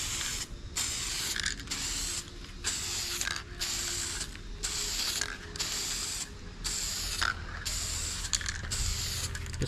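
A spray can or gun hisses in short, rhythmic bursts, about a dozen close passes with brief gaps between them, laying light coats of paint on plastic and fiberglass.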